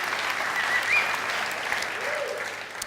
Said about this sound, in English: Please give him a bit of applause.